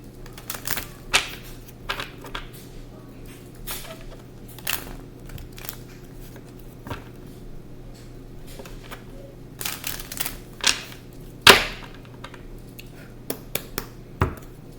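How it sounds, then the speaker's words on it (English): Tarot cards shuffled by hand at close range, sparse sharp slaps and flicks scattered over a low steady hum, with one louder snap near the end. "I'm going to shuffle."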